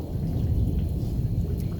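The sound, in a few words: thunderstorm with thunder and rain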